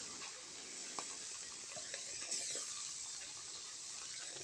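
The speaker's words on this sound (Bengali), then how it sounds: "প্রথমে আমরা তেল গরম করে বাটা মাছগুলো সুন্দর করে ভেজে নেব।" Bata fish fry in hot oil with a steady, faint sizzling hiss and no voices.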